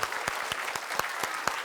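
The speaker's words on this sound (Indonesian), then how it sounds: "tepuk tangan untuk Bang Opi, Narji, sama Kiwil." A studio audience at an Indonesian TV comedy show claps together in a brisk, even rhythm, the sharp claps repeating about four times a second at moderate loudness.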